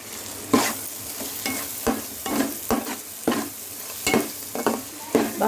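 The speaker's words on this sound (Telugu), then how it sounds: "బాగా ఎర్రగా వేయించుకోవాలి." Onions, ginger-garlic paste and mustard seeds fry in a pan for a Telugu-style fish curry, with steady sizzling and repeated scraping strokes of a spoon stirring them, close and alone.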